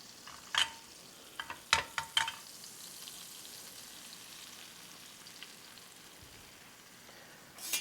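Pecan-crusted grouper fillets fry in butter in a pan, giving a soft continuous sizzle broken by a few sharp clinks and stirring sounds early on and near the end.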